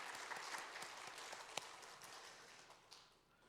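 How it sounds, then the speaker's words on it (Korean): Church congregation applauding during a service, a fairly faint spread of many hands clapping that carries on steadily and then tapers off toward the end. "모든 감사의 마음을 담아서 하나님께 영광의 박수 우리가 올려드리면 좋겠습니다"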